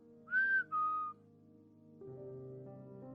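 Two short whistled notes from a person, the first rising and the second slightly lower, clear and close in a quiet room, followed by a soft low hum.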